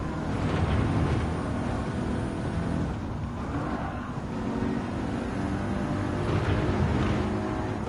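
Racing car engines in Gran Turismo 7 on US and Japanese racetracks, a dense continuous engine roar with shifting revs and passing cars, steady and loud with no speech.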